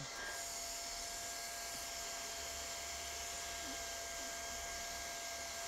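A hot air welding gun blows a steady, even hiss with a faint whine while welding unreinforced PVC roofing membrane at an outside corner, a continuous close drone with no pauses or talking.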